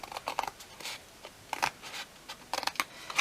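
Scissors snip card along a score line in short, quiet cuts that come in uneven clusters, close up with no voice.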